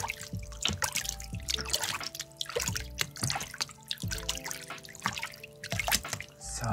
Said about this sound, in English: you head out to the lake and you have yourself a little swim.